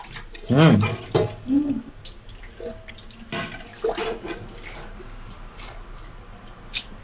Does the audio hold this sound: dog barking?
no